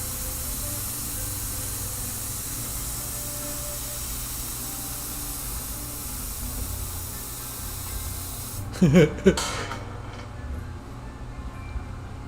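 An airbrush sprays purple Createx paint in a steady soft hiss for most of the span, then a short burst of louder hissing and clicks near the end before the spray falls quiet.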